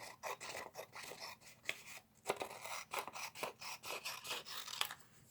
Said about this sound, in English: take your scissors and follow the line that's created by the triangle and cut it out